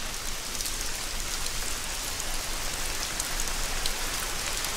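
Steady rain falls in the hunting video game Hunter: Call of the Wild, a continuous hiss of dense drops, fairly loud and even throughout, with no other sounds standing out.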